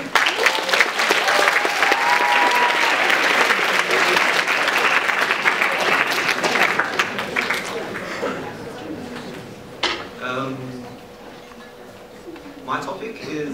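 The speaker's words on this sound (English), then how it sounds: "can you please do a mighty round of applause for each presenter?" An audience applauds to welcome a speaker at a talk event, loud sustained clapping filling the room for several seconds before tapering off into scattered claps and murmured voices.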